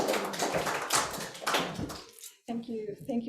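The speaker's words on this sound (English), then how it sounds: "let's give her a big round of applause." Audience applause for a lecturer at a talk, dense clapping from a crowd for about two seconds before it stops abruptly, followed by a voice speaking.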